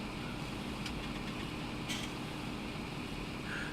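Tractor engine in a farming video game, a steady low droning hum at idle, constant and fairly quiet with no talking.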